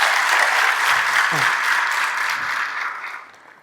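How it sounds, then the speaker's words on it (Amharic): An audience claps steadily through a business training session, a dense, continuous applause that holds strong and then fades away near the end. "ለነሱ በእናታቸው አንድ ጊዜ አጨብጭቡላቸው።"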